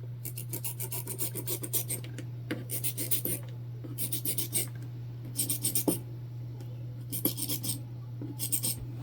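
Chalk drawn across bag material in several short bursts of dry scratchy rasping, close and separated by brief pauses, over a steady low electrical hum.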